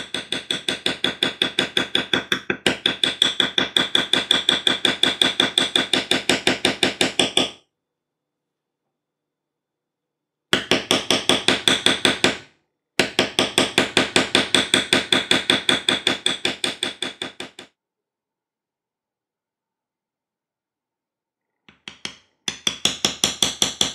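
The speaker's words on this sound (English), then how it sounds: "Now we need to bevel it." Rapid, steady tapping of a hammer on a beveler tool working leather for a gun stock cover, close and crisp in long even runs broken by short pauses.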